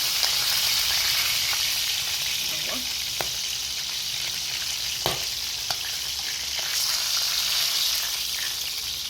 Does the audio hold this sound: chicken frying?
yes